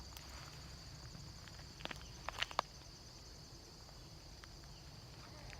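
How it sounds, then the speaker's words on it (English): Crickets chirp steadily and faintly on a quiet night near Mount Washington, with a few brief soft footfall-like taps in the middle and no voices. "all I hear are crickets"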